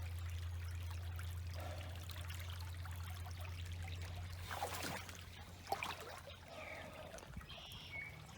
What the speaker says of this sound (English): There's a lot of water rolling through there now